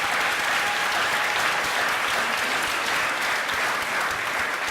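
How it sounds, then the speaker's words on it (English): Loud, sustained applause from an audience at a Crown Heights neighborhood community event, steady dense clapping filling the whole stretch without a break. "Give Michael a round of applause."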